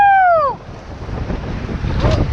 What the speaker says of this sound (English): We're gonna ride this wave train.